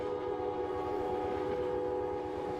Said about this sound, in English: So it does adjust the train sound.